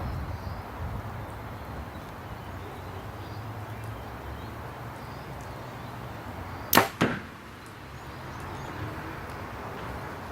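An arrow is shot from a bow fitted with a Spot Hogg sight outdoors, giving one sharp release snap followed by a quick second hit, over a steady background hiss.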